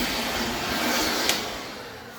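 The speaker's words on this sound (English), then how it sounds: "I'm going to blow off all the dust." An air blower blasts dust off a sanded, curb-rashed car wheel, a steady, loud, close rushing hiss that holds throughout with a slight swell midway and no voices.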